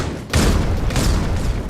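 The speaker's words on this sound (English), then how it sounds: "Oh, the nades absolutely plundering Clutch." In the C-OPS mobile shooter, grenade blasts erupt as heavy, close booms, two bursts in quick succession with a rumbling roar between them.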